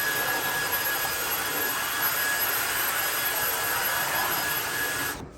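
A Dyson vacuum cleaner running steadily to clean up a mess, a loud continuous roaring whine that holds evenly before cutting off abruptly near the end.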